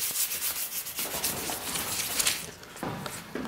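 Sandpaper rubs rapidly back and forth against a surface, a close, raspy scratching in quick uneven strokes with brief pauses.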